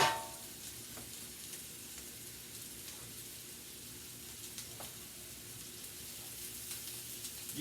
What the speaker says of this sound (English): But it's sizzling, I mean, it's sauteing.